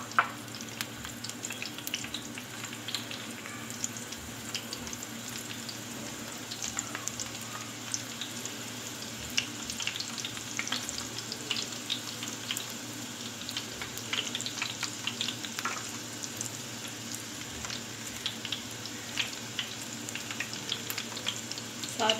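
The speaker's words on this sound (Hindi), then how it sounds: "इसमें लहसुन फ्राई कर लेंगे" Garlic fries in reused pakora oil in a home kitchen, a soft, steady crackling sizzle with small pops that runs throughout, fairly quiet and close, with no talk.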